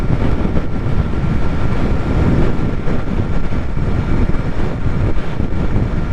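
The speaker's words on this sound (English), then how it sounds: "This wind is trying to take me off this bike." Strong, steady wind roars and buffets continuously across a rider on a Sur Ron electric bike out in rainy weather, a loud, dense rumble with gusty surges and no talking.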